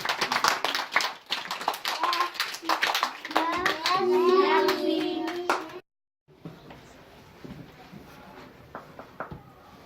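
Young kindergarten children clap in scattered, uneven bursts after a story, mixed with their chatter and excited voices, followed by a brief silence and then quieter background shuffling and distant sounds.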